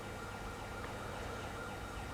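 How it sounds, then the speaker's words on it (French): Police car siren in the video game Mafia 3, a steady wailing tone sitting in a dense, constant wash of game noise, fairly faint and uninterrupted. "Ah, il y a juste la sirène."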